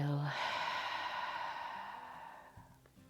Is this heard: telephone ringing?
no